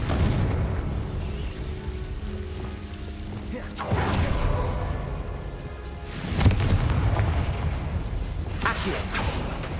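Explosive Confringo spell blasts in Hogwarts Legacy, with several deep booming whooshes that rise out of a steady rumbling game background.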